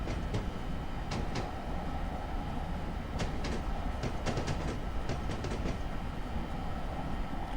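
Train running on rails in Train Simulator on the North Jersey Coast Line toward Long Branch, a steady rumbling ride with scattered clicks and clacks of the wheels throughout, no voices.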